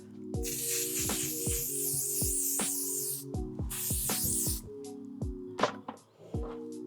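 Two long hissing bursts of L'Oreal 3-second setting mist sprayed onto a face, close up, over a steady background of plucked, rhythmic music.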